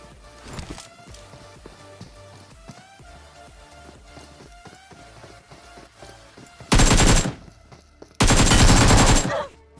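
Two loud shotgun blasts from the mobile battle-royale game BGMI ring out close together near the end, each a broad, sustained burst, following a stretch of quieter in-game footsteps and ambient sound.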